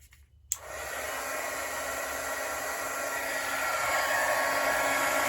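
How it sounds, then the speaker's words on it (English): A heat embossing gun used in card making clicks on, then blows hot air with a loud, steady, close roar that continues without a break. "And let's heat emboss these. Very easy. Watch your ears. I'm going to turn my gun on."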